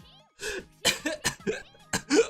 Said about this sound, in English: Oh no, coughing.